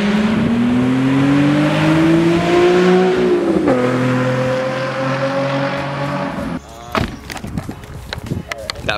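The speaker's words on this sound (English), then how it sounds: "That flyby was super fun." A Nissan 370Z sweeps past in a loud flyby, its engine note rising and then dropping as it passes close, followed by a quieter stretch of scattered knocks and rustling.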